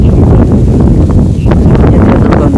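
Strong night wind blows at a steady roar across an outdoor spot among trees, with rustling leaves and faint gusting swells throughout.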